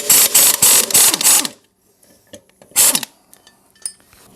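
Ratchet wrench loosening a 16 mm blade bolt on the underside of a push lawn mower deck, two close bursts of rapid clicking separated by a pause, with small metallic knocks between them.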